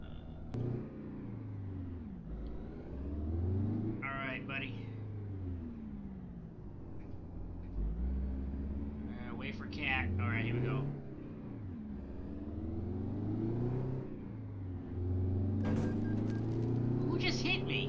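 Engine of a Peterbilt 352 cab-over truck in American Truck Simulator, a low, steady rumble with rising and falling revs, heard faintly under someone talking throughout.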